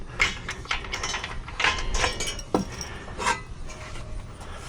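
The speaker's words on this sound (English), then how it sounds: "we're gonna take the ramp off by pulling this pin" A pin is pulled to release the ramp of a 2025 Young Electric 3 e-bike rack, giving a run of metallic clinks, ratcheting clicks and rattles close by, with no talking.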